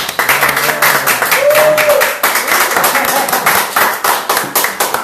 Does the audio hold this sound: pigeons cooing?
no